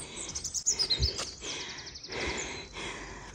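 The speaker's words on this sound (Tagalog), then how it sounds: "Ang sarap pakinggan ng mga huni ng mga ibon ba" Birds chirp and sing in quick, bright trills and repeated tweets, fairly close and clear. A soft breathy sound drifts under the calls.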